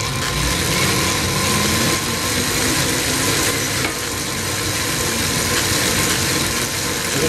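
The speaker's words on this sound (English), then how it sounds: "We're gonna have our friend Andrew hop on the bike in a minute and test it out" Bicycle-powered battery charger with its alternator spun by a rider pedalling, a steady whirring hum with faint tonal whine that holds at an even level throughout, without pauses or talk.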